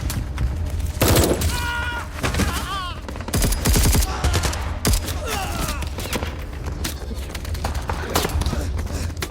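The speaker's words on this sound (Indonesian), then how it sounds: "hingga akhirnya aksi baku tembak pun gak bisa dihindarkan" Rapid gunfire in a film shootout between soldiers and rebels, with bursts of automatic fire, single shots and booming impacts filling the scene, loud and dense throughout, with brief shouted voices mixed in.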